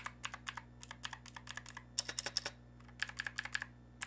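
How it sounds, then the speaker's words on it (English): A cheap 60% mechanical keyboard with good keycaps is typed on in quick, uneven bursts of sharp, clacky keystrokes, close and fairly quiet, with a brief pause near the middle and no talking. "the only problem with this keyboard I have, as you guys can hear"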